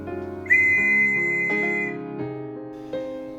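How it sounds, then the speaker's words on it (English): Referee's whistle from the 1915 All-Ireland hurling final, still working, blown in a series of shrill pea-whistle blasts with warbling trills, close and loud with no voices. "Finally, the referee's whistle, used on the day by Willie Walsh, still in full working order."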